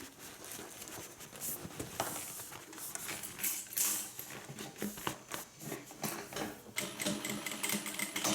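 Home sewing machine back stitching fabric for a hippie van sewing project, a dense rapid mechanical patter running steadily throughout with small clicks and shifts in pace, fairly close.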